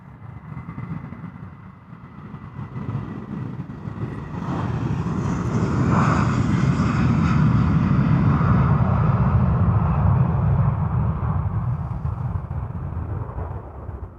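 A British Airways jet departs Amsterdam Schiphol's runway 36L in showery weather, its engine roar building from a low rumble into a loud, sustained broadband thunder that holds steady and only slowly eases.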